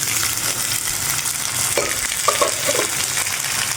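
Beetroot and carrot sauté with softened onions in a pan, giving a steady close frying sizzle with a few light stirring clicks and scrapes in the middle, no talking.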